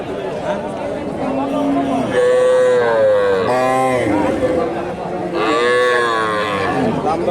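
Several long, loud moos from a desi cow and calf close by at a cattle market, one after another, with people chatting in the background.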